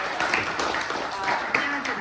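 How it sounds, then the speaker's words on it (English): Applause at a guild membership meeting, scattered claps from a modest audience, fairly distant and mixed with murmuring voices in the room. "let's all give her a hand of applause"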